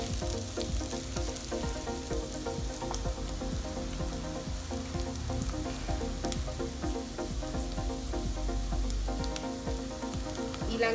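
Spices fry and get stirred in hot oil for a Sri Lankan polos (young jackfruit) curry, a dense, continuous sizzle with steady crackling and occasional stirring scrapes, close and unbroken throughout.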